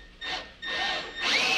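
A power drill whirs in three short bursts, spinning up and boring a 1/8-inch pilot hole at close range while fitting a rear bumper to a 2023 Ski-Doo Expedition snowmobile, its pitch rising slightly in the last run.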